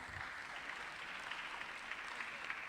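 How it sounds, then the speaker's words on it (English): Quiet, distant applause from a conference audience at a student union event, a soft continuous patter of many hands with no speech over it. "Give him a round of applause."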